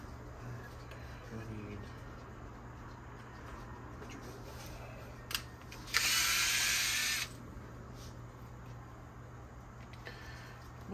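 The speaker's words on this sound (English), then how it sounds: "My drill." A power drill unscrewing the build plate screws of a Creality Ender 3 3D printer: one sharp click, then a loud whirring burst lasting just over a second, in an otherwise quiet room.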